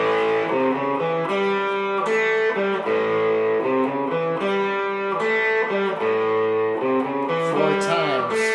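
Electric blues guitar lick in a classic blues-rock style from a song, played slowly with bent and sustained notes, a continuous close melodic line over steady chordal tone.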